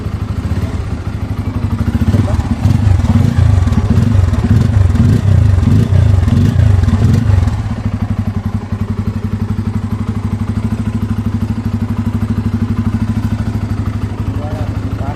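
A brand-new Bajaj Pulsar N250 motorcycle idling close by, a steady low mechanical rumble with a heavier, throbbing stretch in the first half before settling into an even, continuous hum.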